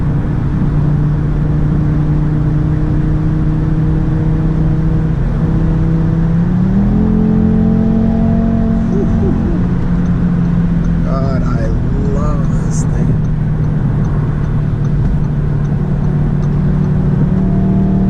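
An Audi RS3 five-cylinder engine hums under light, feathered throttle while driving. The drone is steady and close, rising in pitch once partway through, and someone talks over it.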